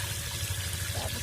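Water pours and trickles steadily over leafy greens (sotora shaak) being washed by hand, a continuous close splashing flow with no talk.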